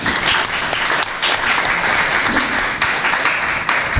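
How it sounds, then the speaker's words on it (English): An audience applauding primary school football players at an awards and closing ceremony, sustained dense clapping that holds steady with brief dips. "the youngsters really deserve a round of applause for that"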